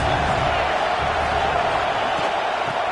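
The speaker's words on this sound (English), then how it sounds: "Big third down as the crowd gets behind this defense." A stadium crowd at an American football game roars steadily through a big third-down play, a loud, continuous wash of cheering with no single voice standing out.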